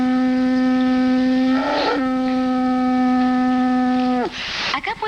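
Air blown hard through a mouthpiece fitted to a soap-coated funnel produces a loud, steady whistling tone with rich harmonics, briefly wavering midway, then cutting off into a breathy rush and sputtering bubble noise.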